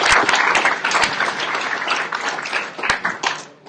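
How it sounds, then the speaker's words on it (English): Audience applause fills a conference hall at the LinuxFest Northwest 2017 gathering, a dense steady wash of many hands clapping with a few sharper claps standing out, then thinning slightly toward the end. "Round of applause for LinuxFest."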